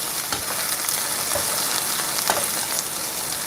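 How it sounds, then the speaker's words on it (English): Chopped onions and fresh garlic sauté in a hot pan, giving a loud, steady, close sizzle that hisses evenly throughout, with no voices over it. "So I'm going to let that saute for a few minutes. That's my onions and my fresh garlic."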